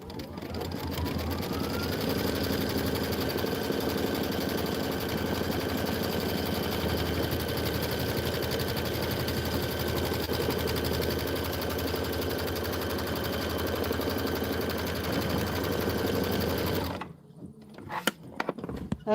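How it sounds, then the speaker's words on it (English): An embroidery-style sewing machine stitches steadily around a pieced quilt block with a Kimberbell winter mittens design, a loud continuous mechanical whir running for about seventeen seconds before stopping abruptly, followed by a few faint handling clicks. "now it's going to stitch all the way around"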